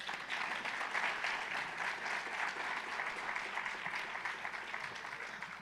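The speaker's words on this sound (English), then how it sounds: "Let's just give another round of applause." Audience applause after an opening fireside chat at a West Virginia entrepreneurship event, a broad sustained clapping from a sizeable crowd, steady and fairly distant throughout with no talk.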